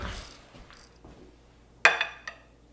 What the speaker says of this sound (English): Oysters, which we will use a spoon to get out.